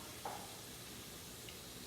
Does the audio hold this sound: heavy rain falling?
no